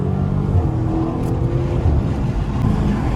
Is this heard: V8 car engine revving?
yes